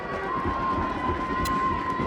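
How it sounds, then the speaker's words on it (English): Hockey fans cheering as the Panthers take the ice before a standing-room-only crowd, a dense, sustained roar of voices with a steady tone running underneath. "And the fans are rallying behind the Panthers, a standing room only crowd."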